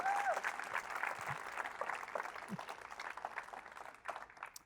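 Applause from an audience at a bilingual French and Spanish talk, a fairly faint patter of clapping that gradually fades, with a few voices briefly audible over it.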